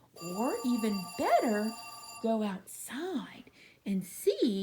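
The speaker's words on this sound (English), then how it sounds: "that's my phone ringing" A telephone rings with steady high electronic tones running under a voice as she talks, the ring persisting through the first half and then fading while her speech continues.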